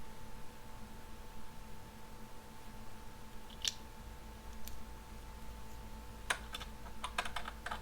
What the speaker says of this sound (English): I'm going to take out the empty bobbin. I'm going to put in the new full bobbin.